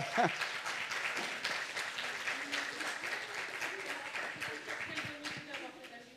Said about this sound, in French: Qu'on applaudit